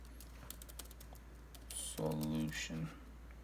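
Fingers tap quickly on a computer keyboard in an irregular stream of soft clicks; partway through, a person starts talking over the last of the keystrokes.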